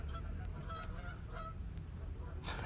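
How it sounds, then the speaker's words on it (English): Geese honk outdoors, with several faint calls scattered over a low background rumble before one loud, close honk bursts out at the end. "These damn geese."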